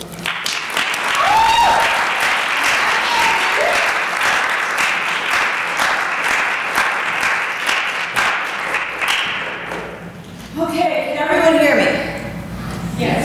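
Audience applause welcomes a speaker to the stage at a talk on autism inclusion in religious settings, a dense, steady ovation lasting about ten seconds before tapering off, with voices and a few murmurs coming through near the end.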